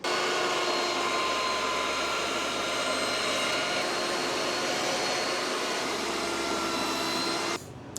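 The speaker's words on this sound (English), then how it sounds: "I'm going to get out the router and start making tenons" A router hums at a steady high whine while cutting tenons in wood, a loud, continuous motor drone close by that holds for several seconds and then cuts off abruptly near the end, with no speech.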